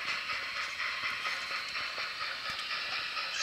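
A detailed, re-lettered BLI Light Pacific model steam locomotive pulling a passenger train on a layout. It gives a steady close hiss of chuffing, with light ticking rail clicks underneath, continuous and alone.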